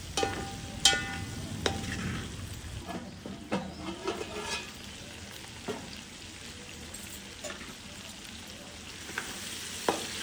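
Vegetable pieces sizzle steadily in hot oil while a tangy Telugu pulusu is cooked, with soft crackles and occasional sharper pops and stirring sounds over a low, even frying hiss.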